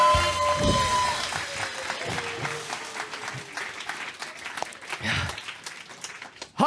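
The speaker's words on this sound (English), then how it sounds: "Give yourselves a round of applause." Audience at a live sketch comedy show clapping and cheering at the end of the performance, a dense, loud wash of applause with some voices mixed in, swelling and fading over several seconds.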